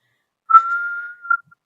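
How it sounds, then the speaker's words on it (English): A person's involuntary whistling tic: a single clear whistle, one sustained steady note, followed by a short second blip; close and alone with silence around it. "my whistling tick where I have to kind of whistle"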